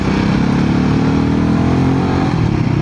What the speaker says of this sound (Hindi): गाड़ी इतनी स्मूथ भाग रही थी